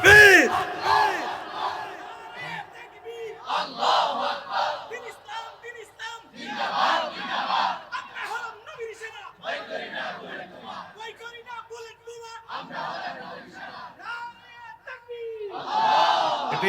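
A large crowd at a religious political rally in Cox's Bazar, Bangladesh, roars the Takbir slogan Allahu Akbar back in loud, repeated bursts of massed shouting that surge, fall away and rise again.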